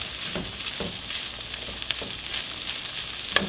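Corn and broccoli blackening in a hot pan, a close, steady sizzle with frequent crackles and scraping stir strokes throughout, no voices over it.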